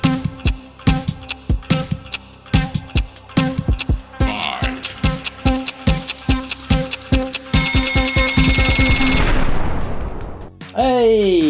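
Quiz night timer, rapid mechanical ticking that speeds up into a buzzing ring before a final ascending alert tone, loud and close.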